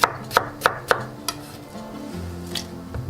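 Knife chopping vegetables for carrot ginger soup on a board: four sharp, evenly spaced chops close up, then softer, quieter cutting with faint kitchen clatter.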